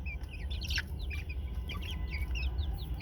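Pet chickens, soaked in a sudden rainstorm, clucking and chirping in quick, scattered bursts close by over a low background rumble.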